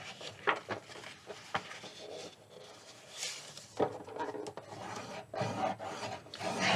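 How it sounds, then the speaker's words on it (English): Paper folded along score lines and burnished for a craft mini album, close dry rubbing and rasping strokes at an irregular pace, fairly quiet. "Fold and burnish score lines."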